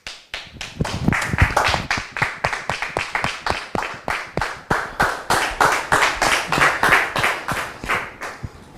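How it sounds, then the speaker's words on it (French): A studio audience on a French talk show claps to welcome a guest, a loud, rhythmic run of synchronized claps in steady beats, close and sustained for nearly nine seconds before fading. "Je voudrais donc demander à notre public de bien vouloir la recevoir sous vos applaudissements"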